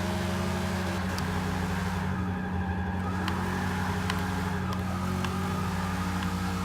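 Engine of a 1969 Pontiac Firebird drifting in the Forza 6 racing game, a steady loud drone with shifting revs throughout, held continuously with no gaps.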